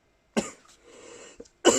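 A person coughs in short bursts, one sharp cough, a quieter breathy stretch, then another harsh cough near the end, close up and alone.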